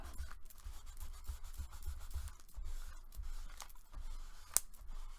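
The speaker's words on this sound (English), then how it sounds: "Burnish the 2 sides." Folded paper for a planner folio being burnished by hand, soft close rubbing and scraping strokes in short repeated passes, faint and intimate with a light click near the end.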